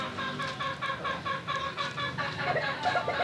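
Gamefowl let out of a cage cluck in a quick run of short repeated calls, close and fairly quiet, with faint background noise.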